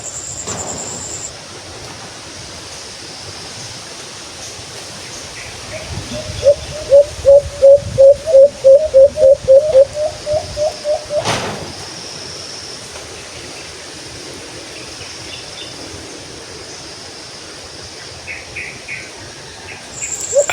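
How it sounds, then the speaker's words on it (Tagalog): A baylan dove in forest gives a long call, a quick run of about a dozen evenly spaced hooting notes that fade off, heard over a soft hiss of insects and distant surf-like ambience. "Ganda ng huni ng bailan mga kabay. Mahaba ang huni niya."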